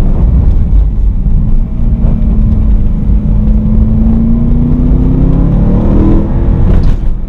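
A powerful BMW M3 V8 engine revs up steadily, its drone rising in pitch, loud and close with no talking.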